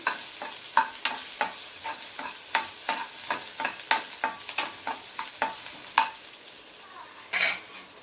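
Finely chopped onion pieces frying in a pan for sweet corn soup, a soft steady sizzle broken by regular spatula stirring clicks every half second or so.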